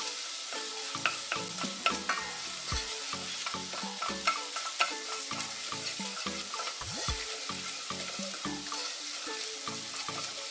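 Red pepper paste frying hard in a hot pan, sizzling steadily while a spoon stirs and scrapes it in quick rhythmic strokes, close and fairly loud, with no voices.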